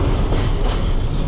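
A large train rattling and shaking while moving, heard as a loud, continuous rumble and clatter from close by with no speech.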